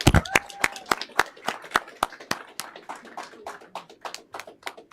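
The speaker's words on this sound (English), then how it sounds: "Give them a round of applause." Students are applauded at a Kalamazoo Public Schools board meeting with sparse, uneven hand claps from a modest audience. The claps start dense, then thin out into scattered individual claps, and a faint voice is heard early on.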